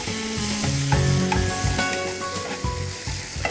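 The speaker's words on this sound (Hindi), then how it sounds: "अब मैं डालूंगी इसमें टमाटर और इसे भूने।" Tomatoes fry and sizzle in a pan with turmeric as the base of a potato saagu curry is cooked, with steady crackling and repeated stirring scrapes throughout, close and fairly loud, with no talking.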